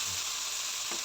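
Tomatoes and chillies frying lightly in a pan, a dense, even sizzle of hot oil heard close up with no break.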